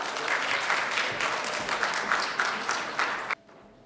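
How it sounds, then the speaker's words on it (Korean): Audience applause at a Korean speech contest in Toronto, steady dense clapping for about three seconds at moderate loudness, then cutting off abruptly into near silence. "네, 큰 박수로 맞이할게요"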